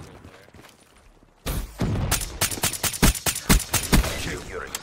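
Gunfire in the video game Call of Duty Black Ops 3 erupts after a quiet moment, a loud rapid string of close shots and bursts that keeps going to the end.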